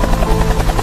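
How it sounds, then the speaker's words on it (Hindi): Cartoon Air Force helicopter: a steady, loud rotor drone with low thudding chop fills the whole short moment, without voices. "हेलीकॉप्टर की आवाज सुनकर सारे लोग ऊपर देखने लग जाते हैं।"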